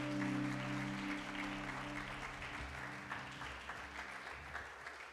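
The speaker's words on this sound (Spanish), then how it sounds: "Damos un aplauso a Cristo en esta hora." A church congregation claps in praise, quiet and somewhat distant, with sustained low music tones underneath the continuous applause.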